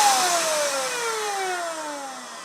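A Wagner W575 paint sprayer motor running on its second setting: a steady loud whine close by, its pitch sliding slowly downward as it settles.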